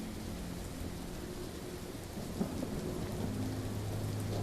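A thunderstorm with heavy rain in The Walking Dead video game, a dense, steady roar of rainfall with low rumbling thunder underneath and a brief louder crack partway through, with no voices.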